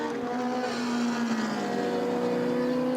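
An ex-Derek Daly Chevron race car at a Silverstone historic Formula Libre race revs hard after a spin, a sustained engine drone with a pitch that climbs steadily, heard at moderate distance and without voices.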